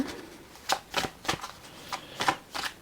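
Tarot cards are shuffled and drawn from a deck in a series of quick crisp papery flicks and slides, about six soft bursts close by in a quiet room.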